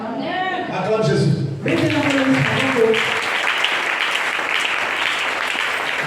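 A congregation at a Sunday worship service in church breaks into loud, sustained clapping and cheering, preceded by a brief voice and continuing steadily to the end.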